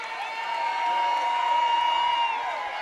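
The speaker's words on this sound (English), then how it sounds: "You can hear the Laurel crowd." Home crowd at Laurel boys high school basketball game (Seaford vs Laurel) roaring and cheering steadily in an indoor gym, a sustained loud wash of voices and shouts throughout.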